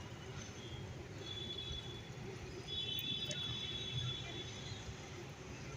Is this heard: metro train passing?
yes